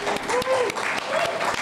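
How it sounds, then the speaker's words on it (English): Dense audience applause carries the whole moment, a full, even wash of clapping with a voice speaking over it. "Definitely worthy of applause."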